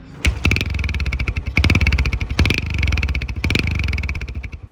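A 1998 Yamaha YBX 125, Yamaha's first four-stroke motorcycle, runs close by with a steady, rhythmic engine chug in several pulsing bursts, loud and without talk.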